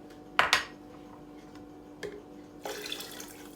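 A little water is poured into a drink to dilute it in a kitchen, with a couple of sharp clinks of a container at the start, then a soft splashing pour near the end, with no talking.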